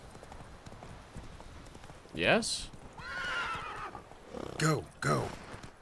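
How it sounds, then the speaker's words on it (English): A horse whinnies and hooves clip-clop amid game sounds in the video game The Witcher 3: Wild Hunt, while someone says a few short words. "Horse."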